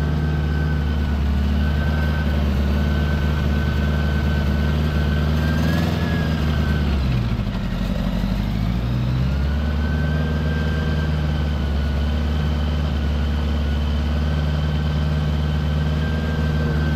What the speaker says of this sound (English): I wonder why it's idling so high.